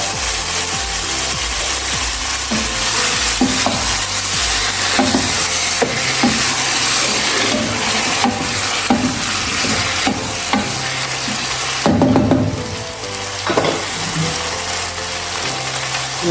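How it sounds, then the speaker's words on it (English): Pre-boiled potatoes, meat and carrots are stirred into tomatoes frying in a pan, with scraping and rubbing strokes of a spoon against the pot under a steady, loud sizzle. "So I will now go in with my mixed potatoes, meats and carrots, which I had pre-boiled earlier."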